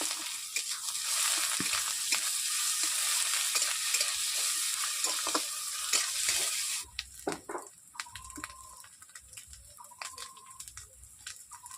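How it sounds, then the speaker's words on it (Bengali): Chopped onion and ginger-garlic paste frying in hot oil in a wok for a Bengali rohu fish curry: a loud, dense sizzle that drops off partway, then quieter hissing broken by scraping, stirring clicks. "কড়াইতে তেল দিয়ে দিচ্ছি, ওতে দিয়ে দিচ্ছি পেঁয়াজ কুচি, আদা রসুনের বাটা একসঙ্গে আমি দিয়ে দিচ্ছি।"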